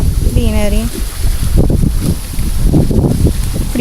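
Gusty wind blows at a waterside spot, a steady broadband rush buffeting the microphone throughout, with a brief tonal sound near the start and bursts of rougher gusts.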